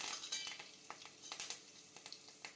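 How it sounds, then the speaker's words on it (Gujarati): Curry leaves hit hot oil already crackling with mustard seeds and cumin in a tempering, giving quick close spits and pops over a bright sizzle. "લીમડાના પાન નાખશું"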